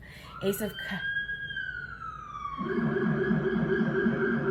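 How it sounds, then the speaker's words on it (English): A siren's wailing tone glides up and slowly down, then gives way to a louder, steadier drone with background noise and possible voices. "It's an interesting siren."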